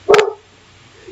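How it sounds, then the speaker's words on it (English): A single loud, close dog bark followed by quiet, with the start of a second bark cut off at the very end. "And now here goes our dog Rocky raising Cain right now"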